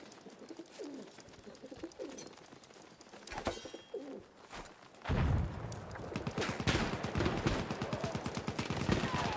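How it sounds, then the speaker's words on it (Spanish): Pigeons coo softly in the video game Battlefield 1, with a few low calls early on, before loud bursts of machine-gun fire and gunshots take over. "Se ha localizado una paloma."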